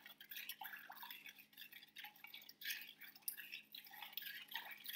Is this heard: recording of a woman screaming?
no